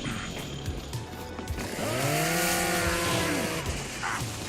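Video game chainsaw weapon revving up to a loud buzzing whine that holds for about a second and a half, with choppy engine sputter and game noise around it.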